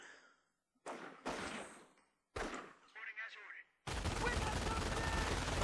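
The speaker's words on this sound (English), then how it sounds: "The MG42 is so insane of a weapon." Gunfire bursts from a World War II MG42 machine gun in Company of Heroes, in separate loud volleys that end in a dense, sustained stretch of firing.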